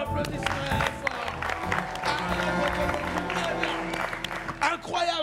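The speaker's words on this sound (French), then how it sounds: "Bravo, applaudissements fort." A television studio audience applauds after a music performance. The clapping is mixed with cheering voices and music, with people talking over it throughout.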